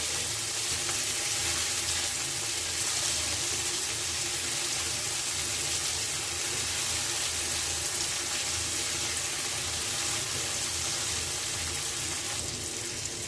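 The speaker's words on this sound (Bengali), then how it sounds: "চিংড়ি মাছ দুই তিন মিনিট ভালো করে ভেজে নেব" Shrimp fry with chopped onion and garlic in a pan for a Bengali pui shak dish, making a steady, loud, close hiss of sizzling oil that runs unbroken with no talking.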